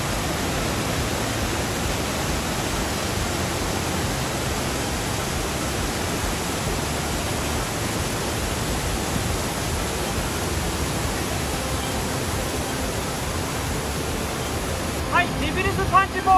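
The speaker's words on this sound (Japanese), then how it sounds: "滝の音がすごくてですね" Waterfall at Devil's Punchbowl, Arthur's Pass, a steady, loud, broadband roar of falling water that holds unbroken throughout, with a faint extra sound near the end.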